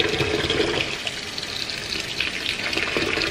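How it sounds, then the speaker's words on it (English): Water runs steadily from a tap into a sink as dyed cotton yarn is rinsed, a continuous close hiss and splash without talk. "I'm gonna do one more rinse"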